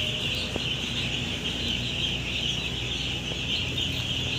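Five-day-old chickens at a poultry farm chirp and cluck in a dense, continuous chorus, close and steady with no voices.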